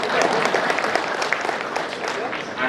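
Steady applause from a crowd at a Lions Club of Warangal 60th charter night celebration, many hands clapping in a continuous patter with voices mixed in.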